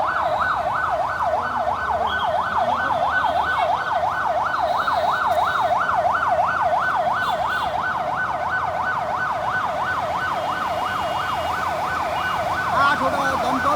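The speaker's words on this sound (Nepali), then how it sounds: "अब नेपाल पुलिसको दमकल आइरहेको छ।" A Nepal Police fire engine siren wails in a steady rapid up-and-down cycle as the vehicle arrives, loud and continuous over distant background noise.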